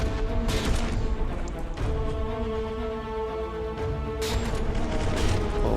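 Naval cannon salvos from warships in a Dread Not Nautical Domination tournament battle, with several loud broadband blasts at irregular intervals over a steady rumbling game background, no talking.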